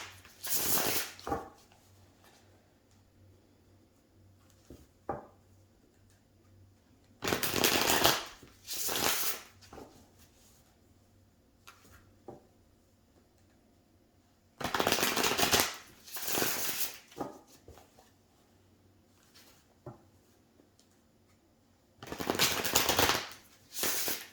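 Tarot cards are shuffled in bursts of rapid riffling and flapping, separated by quiet pauses, close up with no speech.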